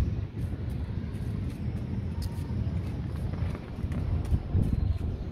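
Steady wind on a rooftop buffets and roars close by, a constant rushing rumble with occasional gusts and faint background knocks.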